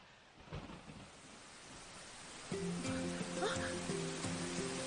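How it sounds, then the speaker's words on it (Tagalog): Rain and thunder build into a wash of steady downpour with a low rumble, while a brief exclamation and tense music come in over the storm partway through. "Ulan! Umulan."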